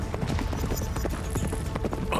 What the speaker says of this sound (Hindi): अरे ये घोड़े कहां से आ गए?